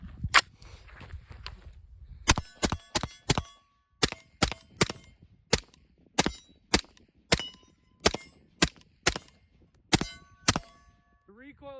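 Series of sharp suppressed rifle shots, about twenty cracks in an uneven rhythm, each loud and close with a short decay, over faint low background rumble.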